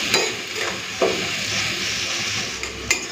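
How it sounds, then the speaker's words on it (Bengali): Onions fry in a pan with salt and bay leaf, a close steady sizzle broken by a few sharp spatula scrapes and taps against the pan, no voices. "পেঁয়াজটাকে প্রথমে লাল করে ভেজে নিই"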